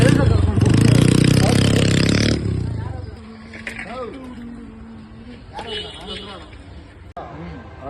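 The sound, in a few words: motorcycle exhaust with silencer, engine revving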